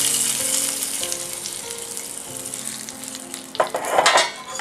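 A hot tempering of coconut oil, mustard seeds, a dried red chilli and curry leaves sizzles loudly in a small pan, then bursts into a sharp hiss as it is poured into ginger curry, heard close with no talking.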